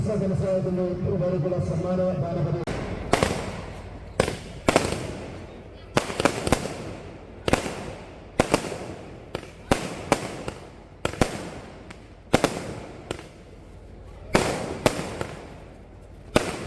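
Repeated loud firework bangs and crackling bursts at irregular intervals at a bull race event in Muthuvallur, each echoing briefly, after a few seconds of distant voices and music.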